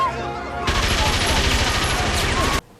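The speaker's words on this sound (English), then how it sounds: "A Tommy gun!" Rapid automatic gunfire from a Tommy gun in a film scene, a loud sustained burst of about two seconds that starts abruptly after a brief quieter lead-in and cuts off sharply.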